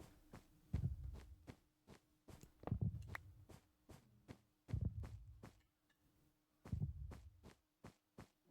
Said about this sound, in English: Warden steps, Warden whines, Warden heartbeats